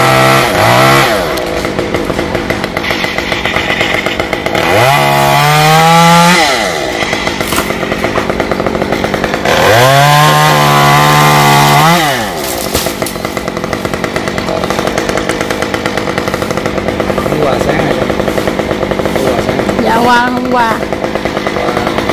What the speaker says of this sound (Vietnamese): nhóm ba của Hoa sẽ cưa đôn đọt những cây dương này như thế nào nha